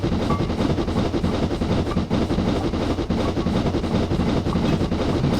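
Steam train in the video game Train Simulator 2020, heard from inside the carriage as a steady, loud rolling rumble with continuous rattling and no pauses.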